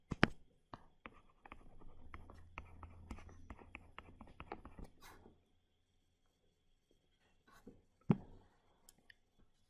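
Pen or chalk scratches and taps during a lecture on a Miller-compensated two-stage OTA, with a few seconds of steady close scribbling, then a quieter gap and a couple of sharp knocks.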